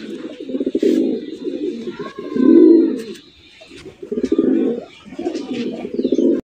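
Pigeons cooing in repeated low, throaty bursts, fairly close, with faint chirps and a high thin tone in the background.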